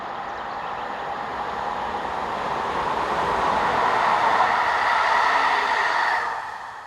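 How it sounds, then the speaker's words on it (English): An AM96 electric multiple unit, number 555 on the evening service from Mons, approaches along the line with a steady rolling hum and wheel noise that swells as it nears, then cuts off sharply. "the 1938 service from Mons approaches the camera, formed by AM96 unit number 555"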